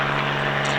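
A Bell 47 helicopter flying a display at the East Kirkby Airshow, its engine giving a loud, steady droning hum with a constant low tone, heard alone with no talk.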